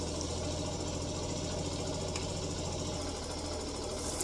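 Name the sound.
Zontes G1 125cc motorcycle engine idling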